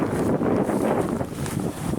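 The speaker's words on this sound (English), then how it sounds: "It's certainly windy up here." Wind blowing hard across the microphone atop a disused railway viaduct, a continuous rough rumble with gusty swells.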